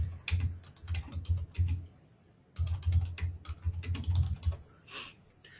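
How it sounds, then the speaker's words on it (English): Fast, furious typing on a computer keyboard, bursts of close, crisp key clicks in quick rhythm, pausing briefly before another rapid run of keystrokes, with no talking. "you can hear me typing furiously over here"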